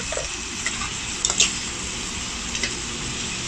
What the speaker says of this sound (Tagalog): Haluin po natin siya.